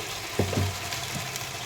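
Ground cumin, coriander, turmeric and chili powder fry in hot oil with salt, a steady close sizzle broken by a couple of soft stirring scrapes.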